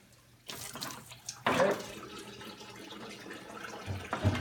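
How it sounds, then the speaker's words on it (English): Water from a garden hose running briefly into a backflow preventer assembly, a loud splashing rush in short bursts that fades and returns, with a brief spoken word. "what I'm going to use my hose now is just a little bit of water in here"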